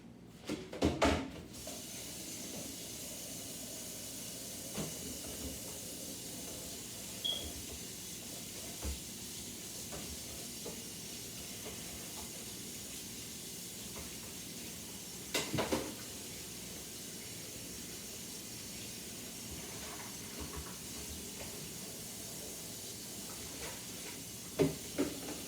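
An air fryer runs with pork chops cooking inside, giving a steady, soft hiss and whir throughout, broken by a few faint clicks and ticks, with no talk.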